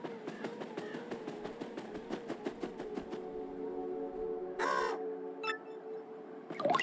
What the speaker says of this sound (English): we can listen to the crows